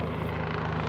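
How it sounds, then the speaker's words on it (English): An NYPD helicopter passes by overhead, a loud continuous rotor thump and engine roar filling the moment alone. "NYPD helicopter passing by."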